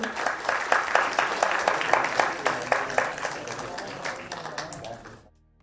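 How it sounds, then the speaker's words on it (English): Participants at an orientation program for MBBS study in Georgia give a round of applause, a dense burst of many hands clapping with a regular pulse that gradually thins out and stops abruptly near the end. "let's give ourselves a big round of applause,"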